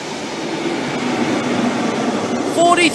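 A Virgin Trains East Coast diversion train hauled by a class 67 locomotive passes as a loud, steady rumble and rail roar, with a brief squeal rising at the end.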